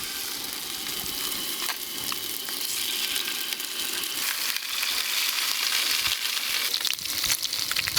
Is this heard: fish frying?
yes